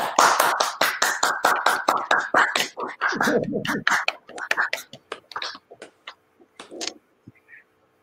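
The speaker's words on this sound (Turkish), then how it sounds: "Bir Jiseon'a e, mümkünse Şöyle bir alkışlayalım" Applause from a meeting audience for an interpreter, starting as a quick run of distinct, fairly close hand claps that thins into scattered claps, with a brief low murmur partway through before the claps trail off.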